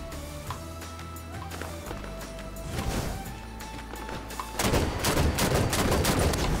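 DMR rifle fire in the video game Halo 5 during a SWAT match, repeated loud shots over steady game noise that grows denser and louder in the final seconds.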